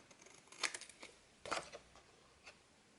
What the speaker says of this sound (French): on va couper au ciseau